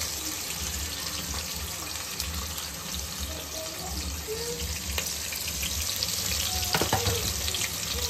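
Sliced onions and green chillies fry in hot oil for a Rayalaseema-style thalakaya curry, a steady, close sizzle with a few soft clinks from stirring, with no speech.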